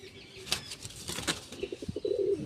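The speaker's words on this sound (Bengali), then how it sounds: "তিনটে পায়রা উড়ছেও" Pigeons take off and fly with brisk bursts of wing flapping close by, followed by a few low coos from the birds.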